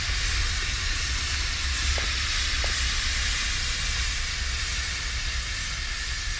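Steady, loud steam hiss from a pipe or vent in a horror video game, a continuous broadband rush that runs unbroken throughout with no voices.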